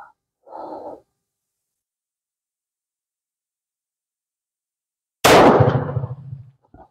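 A single loud pistol gunshot cracks at an outdoor shooting range and decays over about a second, preceded by a short breath-like sound and long silence.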